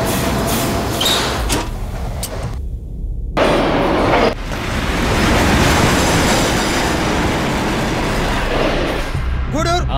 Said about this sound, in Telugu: చైన్ లాగాను పైన ట్రైన్ ఆగట్లేదు